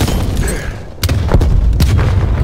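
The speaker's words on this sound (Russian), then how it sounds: "Граната пошла." Grenade explosion in Call of Duty Black Ops Cold War, a loud booming blast amid continuous game noise, with further thuds and cracks of gunfire following.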